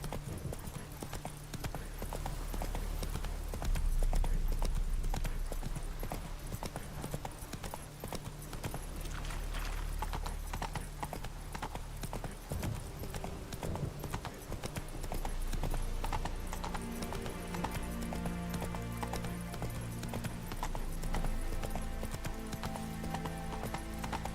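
A horse trotting in the video game Witcher 3, its hooves making a steady, rhythmic clip-clop throughout over a busy bed of game ambience and music.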